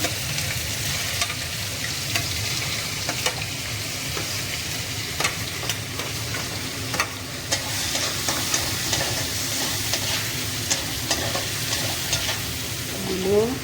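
Onions fry in hot oil in a pan, a dense continuous sizzle up close with repeated scraping and tapping from stirring throughout, no voices heard.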